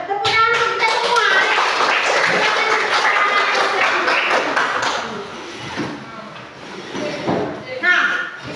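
A class of children claps together in a classroom, a burst of dense hand clapping that tapers off, with children's voices mixed in.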